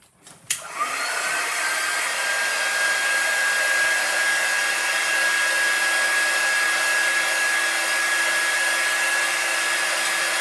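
A hair dryer clicks on and then blows a steady, loud whine over chalk paint on wood, running close and continuously with no talking.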